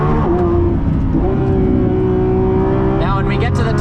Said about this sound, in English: you've got that beautiful V12 soundtrack behind your head